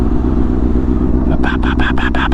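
A large motorcycle rumbles steadily at close range on a windy ride, with heavy wind buffeting throughout and a series of rhythmic bursts of rushing noise toward the end.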